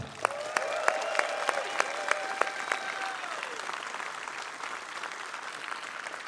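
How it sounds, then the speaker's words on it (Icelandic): Thousands of people at an outdoor rally on Austurvöllur applaud in a broad, sustained wash of clapping with a few sharp louder claps early on, while a sustained tone sounds briefly through the first half. "ég ætla að biðja ykkur að gefa sjálfum ykkur gott klapp"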